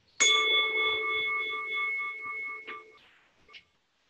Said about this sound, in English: And we'll listen to our bell and then get started.